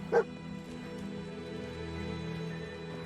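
Dogmeat, the companion dog in Fallout 4, gives a single short bark near the start, then only low game ambience continues.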